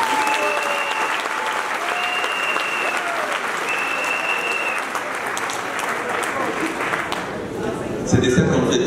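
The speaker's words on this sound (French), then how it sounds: "il faut encore applaudir le président Bédié." A crowd at an address applauds President Bédié with steady, dense clapping, loud and sustained, under a faint voice. A brief louder burst comes near the end.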